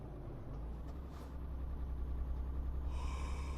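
A truck driver yawns inside a cab in Euro Truck Simulator 2, one drawn-out breathy yawn under a steady low engine and road drone on a quiet motorway.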